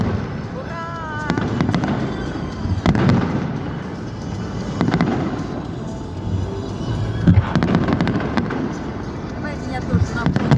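A city day fireworks display crackles and booms continuously in the open air, with bursts and pops layered over a crowd, and people talking nearby throughout.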